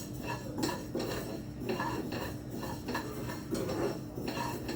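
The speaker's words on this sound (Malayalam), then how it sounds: "അപ്പോൾ ഉലുവ ഞാൻ വറുത്തുകൊണ്ടിരിക്കും" Fenugreek seeds roast in a pan while a utensil scrapes and stirs them in regular strokes, close and fairly quiet, with no speech.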